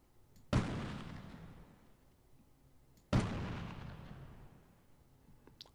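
Two heavy artillery shell explosions in the 1998 Delta Force video game, each a sharp loud blast followed by a long rumbling decay, spaced a few seconds apart with no talking.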